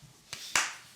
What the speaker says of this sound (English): Gotta do the fucking clap again